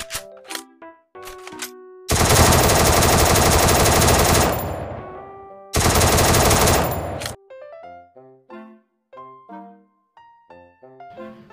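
Bursts of machine gun fire from the Sakura School Simulator video game, two long sustained volleys each lasting a couple of seconds, framed by short sharp game effect sounds and tonal clicks before and after.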